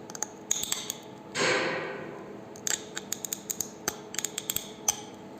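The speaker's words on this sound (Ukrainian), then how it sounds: "Дуже добре гризе скло." A hardened knife forged from a file scrapes across glass in one long gritty stroke, followed by a series of sharp, close ticks and small scratches.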